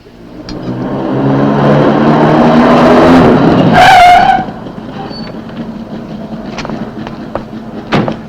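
An old car engine revs up and pulls away on a road in Spain, rising in loudness with a sharp squeal near the peak, then fading into quieter background sounds and scattered knocks.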